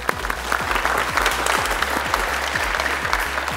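A studio audience at a Family Feud style game show claps steadily throughout, a dense and loud burst of applause with no voices standing out.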